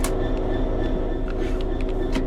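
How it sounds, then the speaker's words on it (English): A Class 66 diesel locomotive idles in the Train Sim World 3 game, its engine giving a steady low drone with faint mechanical hum and soft clicks throughout. "engine's already running"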